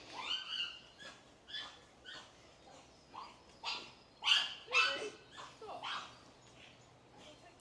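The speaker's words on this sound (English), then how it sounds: "there's a dog that's struggling quite badly in front of me there" A distressed dog out on a Cornish road ahead of a Voge Rally 300 adventure motorbike gives a run of sharp yelps and whimpers, loud and fairly near, with no talk over it.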